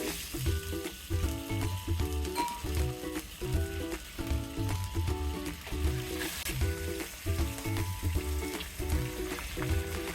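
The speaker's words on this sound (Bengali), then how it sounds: "এভাবে আমি সব কয়টা মাছের টুকরা ভেজে নেব" Pieces of chital (clown knifefish) fry in hot oil, giving a steady crackling sizzle beneath loud, rhythmic background music that repeats in a regular beat.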